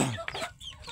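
A desi hen gives a short burst of close clucking, a few quick throaty notes over about a second.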